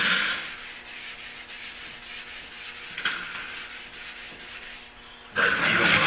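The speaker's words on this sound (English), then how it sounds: "I will take a Scotch-Brite and scuff those edges before I put the base coat on" Scotch-Brite pad scuffing the primed edges of a pickup door, a steady close rubbing hiss that swells louder near the end.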